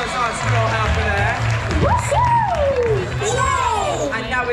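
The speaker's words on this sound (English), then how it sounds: "Big round of applause for our squirrel helper there!" Crowd cheering and clapping from a family audience at a live Hey Duggee children's show at CBeebies Land, Alton Towers, a steady roar of noise throughout with scattered whoops and voices rising over it.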